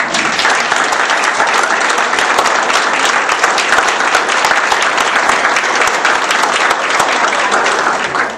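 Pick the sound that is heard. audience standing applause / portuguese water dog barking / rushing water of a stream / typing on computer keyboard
audience standing applause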